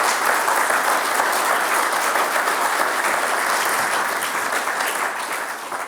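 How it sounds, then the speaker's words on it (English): A room full of listeners at a talk on diversity gives a round of applause, a thick, even wash of many hands clapping that carries on steadily and fades slightly at the end. "let's give a round of applause"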